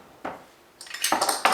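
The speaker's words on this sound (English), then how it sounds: "So now I'll put the blender blades on top." Metal blender blades and a washer being fitted onto a full blender jar while making a cheesecake filling, a soft clink followed by a run of bright, close metallic clatter and scraping.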